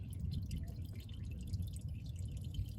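Automatic transmission fluid from a 2006–08 Suzuki Grand Vitara 2.7 V6 trickles out of the drain hole. The drips are faint and irregular over a low background hum.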